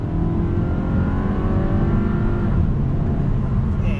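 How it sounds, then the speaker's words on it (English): A 2019 VW Beetle Final Edition accelerates on a highway, its engine a steady, loud drone with rising whine and constant road and wind roar throughout, no talking. "pulling on the highway, getting on throttle"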